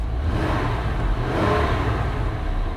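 A Nissan Y62 Patrol engine runs on its stock exhaust, a steady, loud, deep rumble heard up close from inside the vehicle with no talking.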